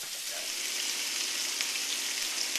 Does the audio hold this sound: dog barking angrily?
no